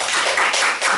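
A church congregation breaks into applause to welcome a visiting worshipper, a dense wash of many hands clapping steadily through the whole second, close and fairly loud.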